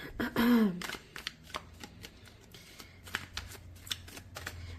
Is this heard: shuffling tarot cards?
yes